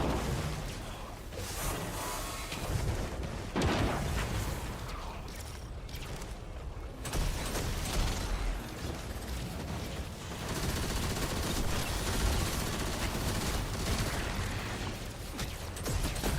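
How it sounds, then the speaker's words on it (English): Bomb blasts in Destiny 2 during a Hunter playthrough of Edge of Fate, a dense, loud barrage of booming impacts and crackling gunfire-like bursts that continue throughout with sweeping whooshes and mechanical clatter. "We have to hit him with bombs."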